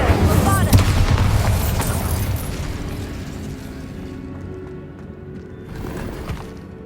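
The Bombarda spell in Hogwarts Legacy goes off as a loud booming explosion early on, followed by rumbling debris that slowly fades and a second smaller blast near the end. Voices are heard partly over the blasts.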